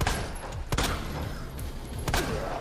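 Gunfire from Resident Evil 2 Remake: several sharp, loud shots crack out one after another over a steady background din.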